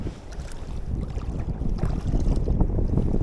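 Strong wind buffeting the microphone in a continuous low roar while fishing from a belly boat, with faint water sloshing underneath and no voices.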